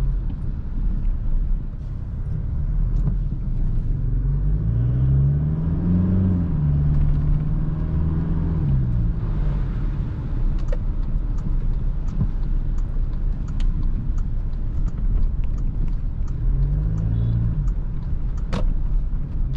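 A Toyota Hilux 2.8 drives on a city street in power mode, a steady low engine drone with a couple of rising-and-falling revs over constant road rumble, heard from inside the cab.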